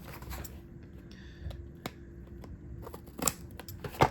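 Scissors cut open a Beyblade X duel pack, giving a few faint, crisp snips and clicks close by, scattered over a quiet background.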